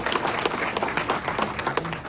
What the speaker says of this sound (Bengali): তার জন্য সবাই হাততালি।